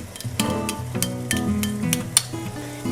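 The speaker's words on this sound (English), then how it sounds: "Stir it a bit so it won't be lumpy." Tomato puree mixed with tomato paste stirred in a pan for chicken cacciatore; a soft simmering hiss with repeated light spoon scrapes and taps, under a tonal music background.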